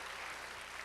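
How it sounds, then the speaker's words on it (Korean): A church congregation claps in a dense, steady burst of applause that fills the whole short moment, loud and sustained with no talking over it. "한번 큰 박수 드리겠습니다"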